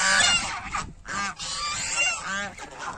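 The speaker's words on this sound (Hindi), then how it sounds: "और ये रही देखो बत्तखें, देखो कितनी सारी हैं" A flock of about seventeen ducks on a farmhouse property gives loud, harsh honking calls in quick bursts, several birds overlapping at close range with short gaps between.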